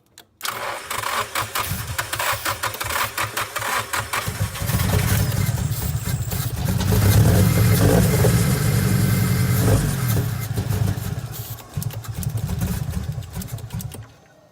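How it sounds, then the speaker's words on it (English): A Nissan S14 with an SR20 engine that has trouble running cranks and catches, then revs unevenly under throttle, rising and falling loudly and close for several seconds before cutting off. "When you start it, hit the gas too."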